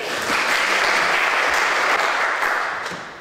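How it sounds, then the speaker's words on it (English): Loud, dense audience applause fills the room at an evening event, holding steady for about three seconds and then starting to fade. "please give a, a round of applause for all your compare for tonight, Alan Green."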